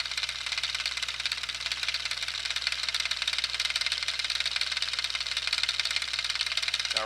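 A handmade 1/5 scale model tunnel ram engine idles, giving a continuous fast buzzing, ticking whir at steady level from start to end, close by and without any speech.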